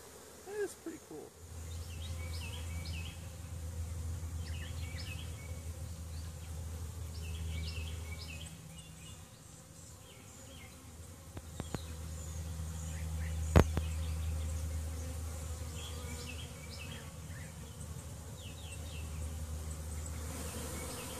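A honey bee swarm taking to the air during a first swarm capture, a dense continuous buzzing drone that holds steady for the whole stretch, close and fairly loud, with faint birdsong above and a couple of sharp knocks.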